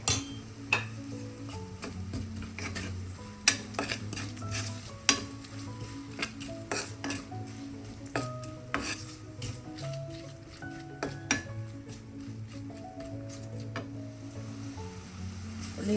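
Onions sautéing in oil in a pan under a soft sizzle, punctuated by frequent clinks and scrapes of a spoon stirring against the pan.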